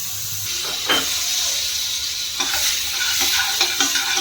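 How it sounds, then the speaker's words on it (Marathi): Butter sizzles and hisses steadily in a frying pan, a close, continuous frying crackle with a few stirring scrapes and clinks, no voices. "तोपर्यंत आपण इथे पॅनमध्ये बटर ॲड करूया"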